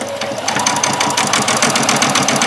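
Sewing machine stitching a doll's dress straight over pins, a rapid, even mechanical chatter of the needle running steadily and close by, with no talk.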